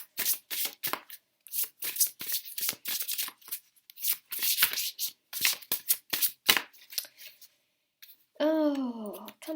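A Love Oracle card deck is shuffled by hand in quick, close riffling bursts with brief pauses between them, and a short voiced sound comes near the end.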